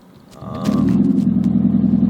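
A car with its catalytic converter stolen and replaced starts up and settles into a loud, deep, rumbling idle, building over the first second and then holding steady and close.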